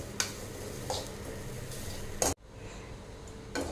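Grated coconut dry-roasting in a pan over low heat, with scraping stirs and brief spoon knocks against the pan over a faint background, then a sudden cut to quieter room tone.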